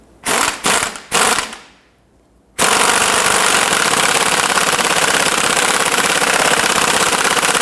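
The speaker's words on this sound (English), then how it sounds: "Let's go ahead and tighten down this upper bearing nut." Upper strut bearing nut being tightened on the front strut assembly of a 1992-1996 Toyota Camry: a few sharp bursts from a power impact tool, a short pause, then a long steady loud whirring rattle of mechanical noise.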